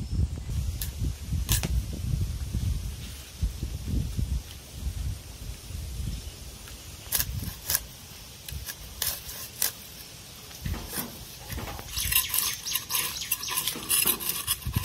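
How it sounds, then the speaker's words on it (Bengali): A large fresh pond-raised rohu fish is cut and handled for cooking at home, giving irregular wet knocks, scrapes and sharp metallic clicks, close and moderately quiet, with a busier clatter toward the end. "আজকে রুই মাছ দিয়ে একটা রেসিপি করব, সেই জন্য মা মাছটা কাটে নিচ্ছে"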